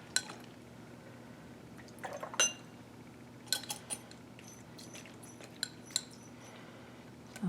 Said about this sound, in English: Rinse out my beaker.